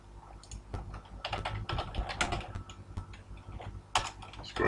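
Typing on a computer keyboard, irregular bursts of quick clicking keystrokes with brief pauses between, close and clear with no talking.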